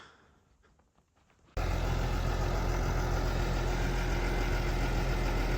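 After a quiet start, a small farm tractor engine starts up and settles into a steady, loud idle that rumbles on without change.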